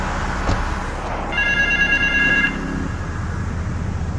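Telephone ringing in the Grand Theft Auto 3 video game, a brief electronic trill of about a second heard over a steady background game ambience.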